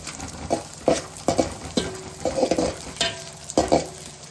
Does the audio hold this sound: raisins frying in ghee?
yes